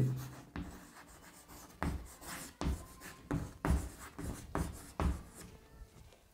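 A pen scratches out a Class 10 geometry solution on paper in close, quiet bursts of strokes with brief pauses between them.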